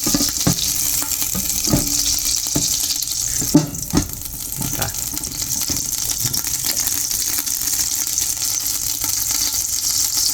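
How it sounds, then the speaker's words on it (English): Hard vegetables, including finely chopped baby carrots, sizzle in butter in a pan, a steady broadband hiss broken by a few clinks and stirring knocks, close and alone without talk. "I'm going to saute them in butter before I put my meat in there"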